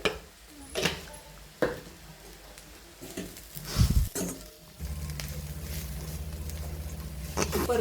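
Cluster beans with peanut powder sauté in a pan, with soft sizzling and intermittent scraping stirs, a few clatters near the middle and a steadier frying hiss toward the end.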